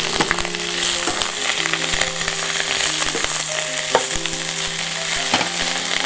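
Fresh mint leaves fry in a pan for curry leaf chutney, giving a loud, even sizzle with scattered stirring scrapes and clinks from start to finish and nobody talking.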